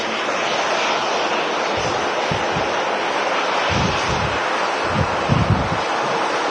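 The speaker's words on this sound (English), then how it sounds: "What a silky touchdown." A Ryanair Boeing 737-800 arriving from Alicante touches down at Manchester Airport. A steady, loud broadband roar of jet engines and rushing air runs throughout, with a few low thumps partway through.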